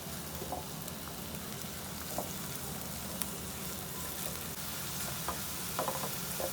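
Masala with red chilli frying in a pan, a steady soft sizzle with occasional light stirring taps, fairly quiet and close, no talk.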